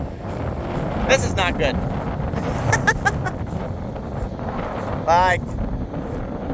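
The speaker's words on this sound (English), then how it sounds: "Brace yourself. We're going for some wind." Strong wind buffets the microphone throughout, a steady roaring rush with a few louder gusts, while someone talks over it outdoors on muddy farmland.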